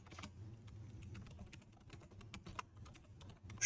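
A command is being typed on a computer keyboard, with a steady run of quick, light key clicks, fairly close but quiet, and no talk.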